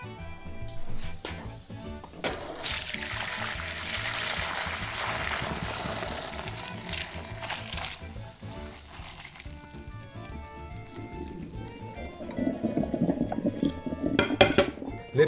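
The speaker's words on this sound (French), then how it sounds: "Les pâtes sont égouttées." Cooked spaghetti drained in a kitchen, with the pot handled: a rush of pouring water and hiss in the middle, then clinks and metallic knocks of the pot near the end, close and moderately loud.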